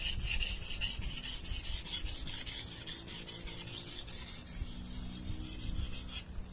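A knife is sharpened on a grit 300 whetstone, giving repeated rhythmic rasping strokes back and forth, close and fairly loud, with no speech.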